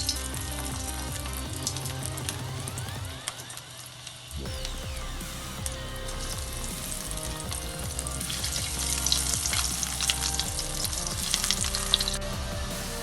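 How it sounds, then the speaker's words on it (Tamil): Fish fingers deep frying one by one in hot oil in a kadai, a dense, loud, continuous sizzle with bubbling crackle, briefly dipping near the start before swelling stronger toward the end. "எண்ணெய் காஞ்ச உடனே இந்த பெரட்டி வச்ச ஃபிங்கர் ஃபிஷ்ஷை இதில் போட்டுக்கோங்க ஒன்று ஒன்றா."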